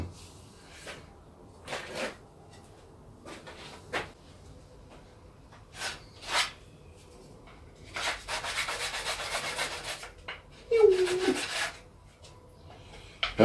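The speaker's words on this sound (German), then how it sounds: "Muss nur ein bisschen schleifen." A wooden part for a table-saw crosscut fence is sanded by hand, giving short rasping strokes in bursts with pauses between, close and fairly quiet, with a longer run of rubbing near the end.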